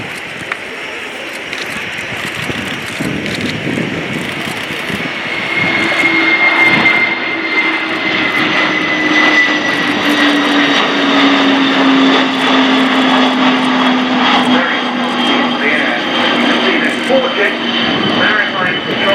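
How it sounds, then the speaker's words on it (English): A Kawasaki P-1 maritime patrol jet flies a display pass at the Royal International Air Tattoo, its loud steady engine roar shifting slowly in pitch as it passes, with a commentator talking over it. "The Kawasaki P-1."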